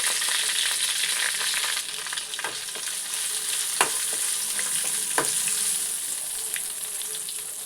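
A tempering of cumin, curry leaves, a few red chillies and a pinch of turmeric sizzles in hot oil, a constant bright crackling hiss broken by a few sharp stirring clacks, close and loud with no talking.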